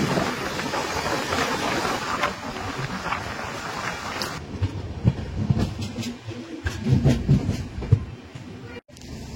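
A train carriage rolling along the rails on a journey toward Howrah station, a steady rumbling ride with rhythmic clatter and jolts, loud and close from inside the coach, no talk.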